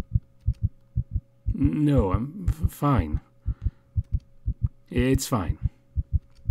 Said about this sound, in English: The pounding of my heart is deafening.